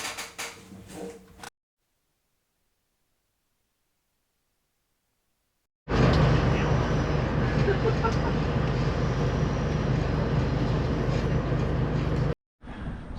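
Steady rumbling interior of a V/Line VLocity passenger train running to Woodend, a continuous broadband roll that fills the second half after a stretch of silence, with a brief bit of talk at the start.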